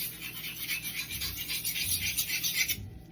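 A knife is drawn across the coarse side of a wet whetstone at an angle, a close, rhythmic rasping scrape of repeated strokes that stops abruptly near the end, with no speech.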